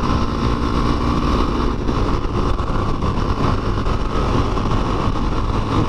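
Several motorcycles rev hard during a group ride. Their engines make a loud, constant, gritty roar that stays close and dominant throughout, with no talk.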